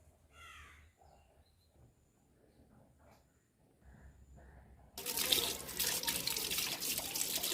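Water gushes from a tap into a sink, a loud steady broadband rush that starts abruptly near the end, after a quiet stretch with a crow cawing in the background.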